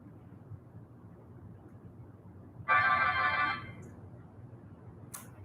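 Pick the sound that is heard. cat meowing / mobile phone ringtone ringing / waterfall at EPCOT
mobile phone ringtone ringing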